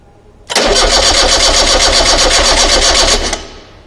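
A car engine cranks with a rapid, even pulsing whir for about three seconds, loud and close, then fades out as the starter stops.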